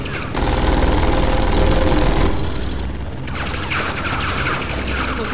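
Rapid, continuous automatic gunfire in the video game Tales from the Borderlands rattles loudly, briefly thins out, then carries on in dense bursts.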